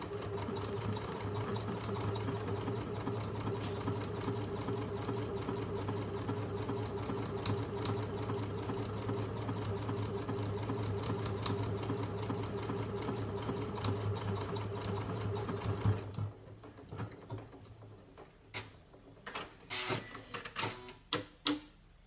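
Janome Memorycraft 9900 sewing machine stitching a buttonhole on its own, a steady close mechanical whir with rapid needle ticking for about sixteen seconds, then stopping and trimming the thread with a few sharp clicks.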